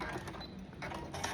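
A sewing machine stitches a pink patchwork quilt, giving a steady, close mechanical whir that runs the whole moment with slight surges and no talking.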